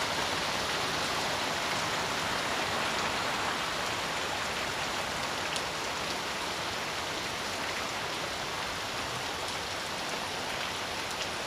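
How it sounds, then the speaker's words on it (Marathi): Heavy monsoon rain pours down in Guhagar, a dense, constant hiss of rainfall close by and unbroken for the whole stretch, with no voices. "हा पाऊस एवढा मोठा आलाय"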